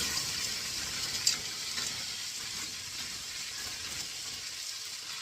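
About a kilo of green peas frying in roughly 30 grams of melted butter in a pot for Hungarian green pea soup, giving a soft, steady sizzle that stays even and fairly quiet throughout.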